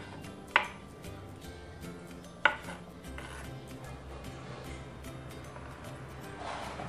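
Knife cutting through ingredients for Tom Yum sardines on a board, two sharp distinct chops spaced about two seconds apart, followed by quieter scraping and clinking in a kitchen.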